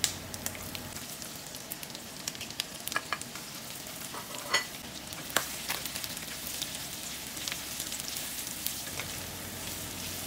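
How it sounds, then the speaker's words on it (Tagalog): Onion and garlic sautéing in hot oil in a pan for pork humba, a steady bright sizzle broken by occasional scrapes and clinks of stirring, close by and without talk. "mag-i-start na rin ako mag-gisa ng sibuyas at bawang"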